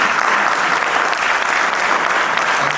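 An audience at a world peace delegation event for science and spirituality gives a steady, loud round of applause welcoming a university provost to the stage. The dense, even clapping fills the whole stretch, with no talk over it.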